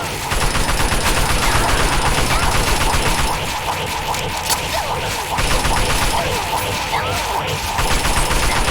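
Rapid automatic assault rifle fire in Fallout: New Vegas, loud, close bursts rattling almost continuously with dense clattering shots throughout.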